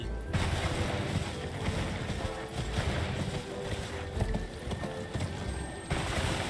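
Horse hooves in Elden Ring, a continuous busy clip-clop of galloping under dense game ambience and wind, holding at an even loudness throughout.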